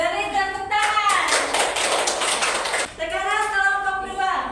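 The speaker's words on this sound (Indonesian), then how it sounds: "Beri tepuk tangan" A classroom of students claps together in a quick burst of applause lasting about two seconds, loud and close, with a teacher talking just before and after.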